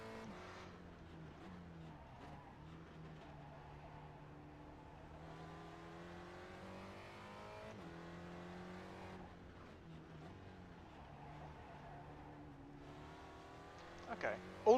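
A race car lapping Oran Park, its engine droning and shifting pitch as it accelerates and brakes through gears, steady and close throughout, with a brief louder burst near the end.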